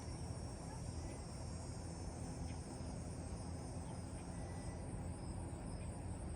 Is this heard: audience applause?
no